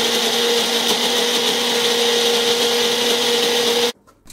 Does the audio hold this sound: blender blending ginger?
yes